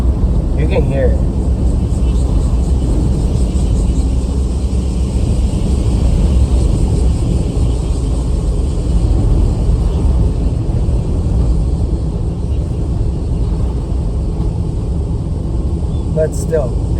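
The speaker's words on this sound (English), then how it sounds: "as you guys can see, the wind is blowing pretty strong." Strong wind blowing outdoors, a steady loud rumble buffeting the microphone throughout, with faint clicks and sporadic distant sounds.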